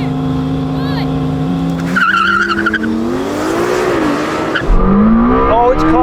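Lamborghini Temerario and Ferrari 296 launching side by side in a drag race, loud engines roaring and climbing through rising gear shifts with tire noise, with a brief voice over the engines.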